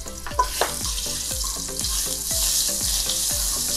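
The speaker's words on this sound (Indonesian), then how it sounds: "Kita tumis dulu sampai harum." Garlic sautés in a hot pan with a loud, steady sizzle, and a spatula scrapes and taps against the metal in an even, repeated rhythm throughout. No one speaks.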